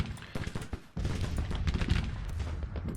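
Cannon fire in the Grand Tactician Civil War game as artillery pounds enemy lines: scattered booms and crackling volleys first, then a dense, sustained rumble of overlapping gunfire at moderate loudness, with no talk.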